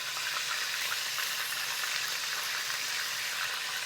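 Flipped pieces of beef fry in a pan of oil, giving a dense, even sizzle that holds steady and close without pause or voices.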